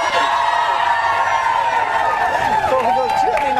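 A television morning show studio audience cheers and whoops in a steady, noisy wash while a voice talks over the crowd.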